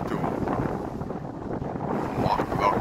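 Strong wind blows steadily across open water near a key, a dense, continuous roar of gusts buffeting the microphone with no pauses.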